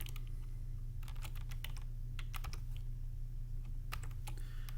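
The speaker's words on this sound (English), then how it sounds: "you're going to put in your email address, your entire email address, and then the password you created for Synced Tool." Close, quiet keyboard typing of an email address and password, irregular bursts of key clicks over a steady low hum, no talking.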